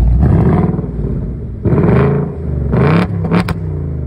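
A 2024 Ford Mustang GT engine revs on remote start from the key fob: three loud, close roaring bursts, each climbing and then falling back, with a sharp crackle on the last.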